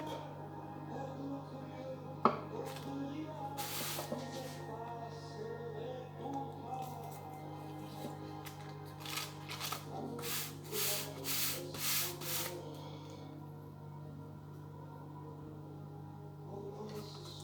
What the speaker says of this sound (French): Ça, c'est une découpe à la va-vite. C'est pas la découpe finale pour un millefeuille.